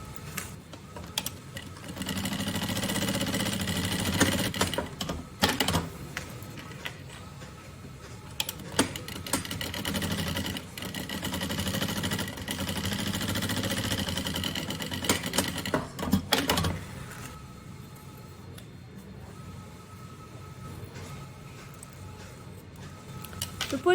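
A sewing machine runs in long, steady stitching bursts along the edge of a bunny backpack's bottom, joining synthetic fabric to its lining, with brief pauses and stops between runs.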